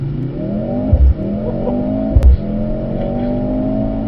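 Mercedes-AMG C63S E-Performance W206 accelerating hard on a race track, a rising engine whine interrupted by two quick gear-shift thumps, loud and close from the cabin, with no voices.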